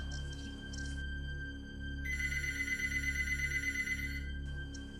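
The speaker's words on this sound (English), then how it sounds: "Just as I was about to press the last one, the phone rang" A telephone rings nearby: a steady electronic trill lasting a couple of seconds, with a softer ring before and after it over a low constant hum.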